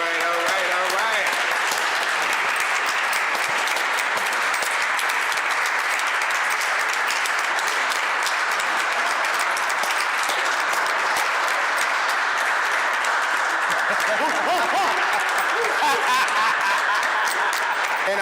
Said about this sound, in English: So let's give him a round of applause.